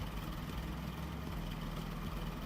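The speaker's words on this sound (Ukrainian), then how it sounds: "І так в мене працює вихлоп" A car engine idles with a low, steady rumbling exhaust, close and continuous, with no voices over it.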